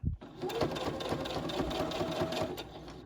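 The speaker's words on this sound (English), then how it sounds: "So we're going to sew 3 sides of our patch" A sewing machine runs continuously, stitching three sides of a small fabric patch. Its close, steady mechanical whirr holds through the whole stretch.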